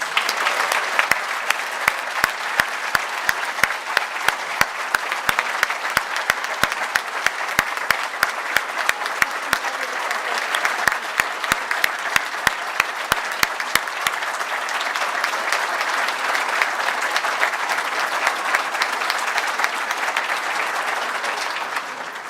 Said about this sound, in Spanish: el aplauso de todos nosotros